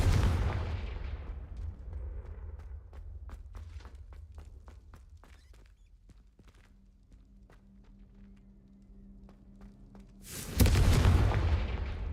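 Confringo fire spell blasts in a Hogwarts video game: a rumbling explosive burst, a string of sharp crackling impacts and thuds, then a second loud, close blast near the end.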